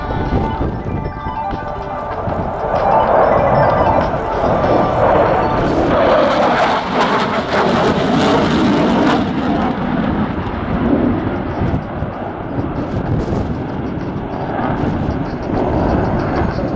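Tornado jet rolling during the RAF Cosford air show display, a loud, continuous, thunderous roar that swells and rumbles throughout, with crackling bursts midway.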